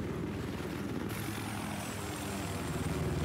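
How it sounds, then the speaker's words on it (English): A helicopter in a competitive video game match on the Hainan map gives a steady, continuous rotor and engine drone that holds at an even level throughout, with no voices. "Heli's up."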